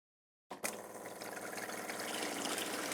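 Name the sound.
water running from faucet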